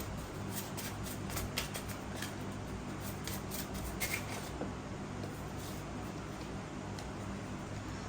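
Tarot cards are shuffled for a card reading, a faint papery riffle of quick flicks and taps, busiest in the first half, over a low steady background hum.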